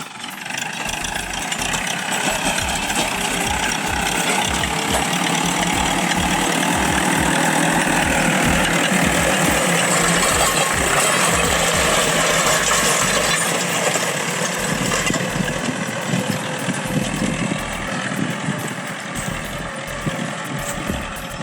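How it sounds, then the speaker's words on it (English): A steady, loud four-wheel tractor engine drones for the whole stretch, with a rhythmic clanking, rattling rumble as it plows an onion field in Zambia nearby. "Plowing up with a tractor, okay?"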